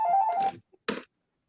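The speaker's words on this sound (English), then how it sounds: "Sorry, my phone's ringing." A mobile phone rings with a short electronic tone, then a brief thunk follows before silence.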